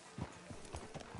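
Horse hooves clip-clopping at a steady walking rhythm in Red Dead Redemption 2, about five soft, evenly spaced beats, faint and alone.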